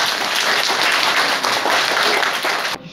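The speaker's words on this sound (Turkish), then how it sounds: "Buna da bir alkış alalım mı?" Audience applause at a Social Security Week event in Sinop, Türkiye, a dense, steady burst of many hands clapping at close range that stops abruptly near the end.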